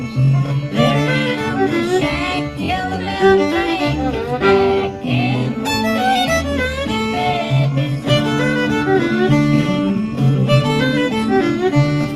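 A busy acoustic bluegrass string band passage, a fiddle running a quick melodic lick over steady chord changes, lively and continuous with no voices.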